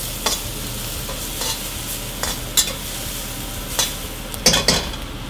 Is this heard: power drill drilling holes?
no